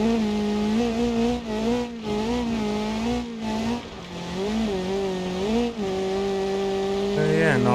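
Rally car in the BeamNG.drive racing game, its engine droning steadily with rising and falling harmonic pitch shifts through gear changes and corners, loud and continuous for the whole stretch with no talk.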